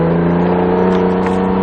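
An Acura NSX on a racing circuit accelerating out of a corner, its engine a steady loud drone with strong harmonic tones heard from on board.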